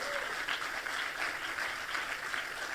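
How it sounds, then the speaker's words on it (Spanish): A church congregation applauds during a worship service, with steady, moderately loud clapping from many hands and slight swells in intensity, and no one speaking over it. "Dale ese aplauso fuerte a Jesús."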